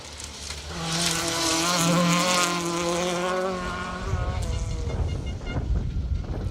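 A Ford Escort rally car on a forest stage of the Carlisle Stages Rally passes close by, its engine revving high and rising through gears, loud and strident, then fading as the car moves away.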